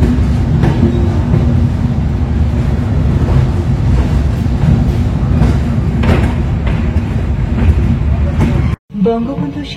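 Padma Express passenger train on the Dhaka to Rajshahi run, a loud steady rumble of wheels and carriage noise throughout with rhythmic clatter, briefly cutting out near the end before a different rattling resumes.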